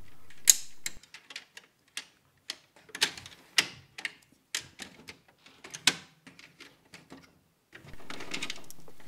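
Plastic parts of a Nerf blaster being handled as the priming lock behind the gearbox is removed: a series of sharp, irregular clicks, snaps and small rattles, quiet and close, with brief scraping near the end.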